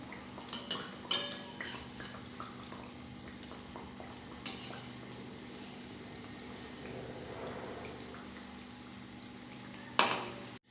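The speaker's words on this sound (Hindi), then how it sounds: "चार से 5 मिनट तक बिल्कुल लो फ्लेम के ऊपर फ्राई करने के बाद अब हम इसे पलट देंगे" Mathri made from rice flour dough frying in oil over a very low flame, a faint continuous bubbling sizzle with metal utensil clinks and scrapes as the pieces are turned, close by with no talking.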